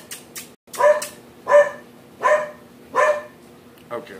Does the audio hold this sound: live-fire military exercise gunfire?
no